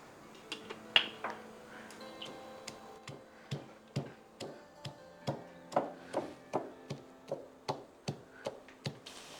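Garlic cloves and green chillies are pounded by hand for an amla pickle, giving a steady series of sharp, regular knocks about two per second, fairly close and fading slightly in loudness, with no talk.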